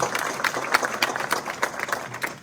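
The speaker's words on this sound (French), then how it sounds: "je demande à ce qu'il soit applaudi pour le remercier" Ceremony audience at a digital education awards event applauds the minister, a fairly faint, dense patter of clapping sustained for a couple of seconds.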